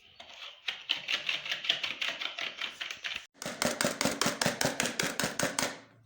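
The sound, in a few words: whisking burger mixture by hand until fluffy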